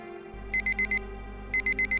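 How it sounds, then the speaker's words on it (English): An alarm goes off in a horror video game. It sounds as two bursts of four rapid, bright electronic beeps over a steady low droning hum. "Getting woken up by alarms if you're hypnotized. The alarm jerked me out of the trance."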